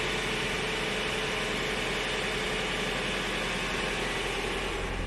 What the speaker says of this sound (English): That's what it sounds like with the engine running.